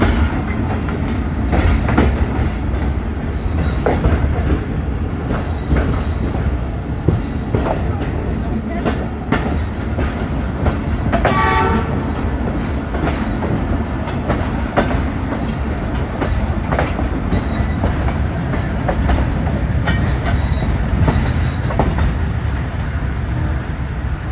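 A passenger train running from Rawalpindi to Sialkot rumbles steadily with rhythmic clickety-clack of wheels over rail joints and a brief squeal, loud and close from inside the carriage, with faint voices in the background.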